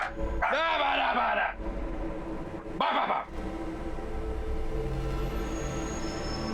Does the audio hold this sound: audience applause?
no